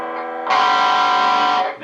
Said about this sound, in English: to get to the distortion on this amp, we're going to turn the master to 0, volume to 10,